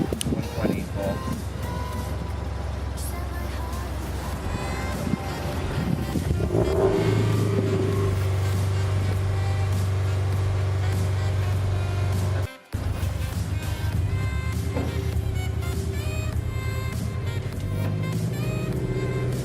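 A car engine running during a custom tune idles with a steady low rumble close by, its pitch shifting as the throttle is blipped, and it continues after a brief cut in the middle.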